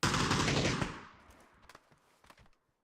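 Video game gunfire, a dense loud burst of automatic fire for about a second that quickly fades into scattered, fainter shots and clatter.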